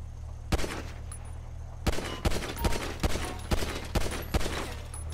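Gunfire in GTA V Online, a series of loud, sharp shots spaced irregularly over a low steady hum, with one isolated shot early and a quicker cluster after.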